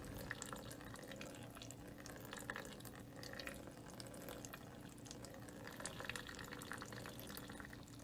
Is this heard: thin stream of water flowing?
yes